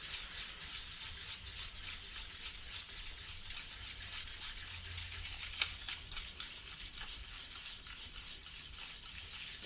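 A copper bar is polished by hand, producing a steady, close scrubbing and rubbing sound in quick repeated strokes throughout.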